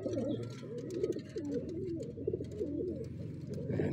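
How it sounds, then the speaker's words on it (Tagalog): Pigeons bred as racing and flying birds coo softly in repeated rolling calls, several overlapping phrases close by at low volume over a quiet background. "Gandang kalapate."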